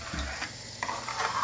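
Pasta sauce for homemade spaghetti and meatballs is stirred in a pan, giving brief scraping and soft clicking strokes close up.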